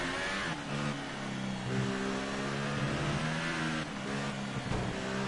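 An F1 race car in the F1 2018 video game laps Yas Marina. The engine whines with a fairly quiet, high, harmonic tone that rises and falls through gear changes and corners, with no voices.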